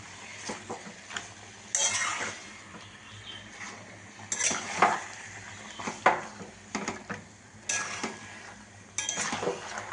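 A spoon scrapes and clinks against a pot as spiced meat, about one and a half kilograms, is stirred and fried, with bursts of scraping and a soft sizzle underneath, close and intermittent.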